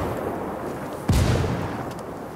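A frag grenade explodes in Ghost Recon Wildlands with a single sudden, loud boom, followed by a short rumbling tail over steady background noise.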